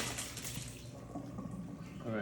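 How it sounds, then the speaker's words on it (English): Water pours from soaked noodles into a kitchen sink, a brief splashing gush under a person talking. "I'm going to drain them."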